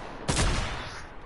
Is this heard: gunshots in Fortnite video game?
yes